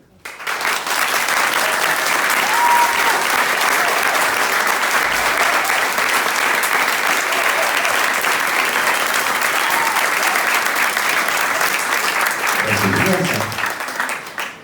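Sustained applause from a large audience at a French political conference, dense and steady for about fourteen seconds, with a few low thumps and a voice near the end.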